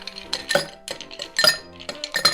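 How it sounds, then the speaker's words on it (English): Ice cubes clink and rattle into a Collins glass in a few quick bursts while a Stormin' Nordic rum cocktail is made, close and fairly quiet, with no talk over it. "The first thing I'm going to do to make this drink is to add ice to my Collins glass"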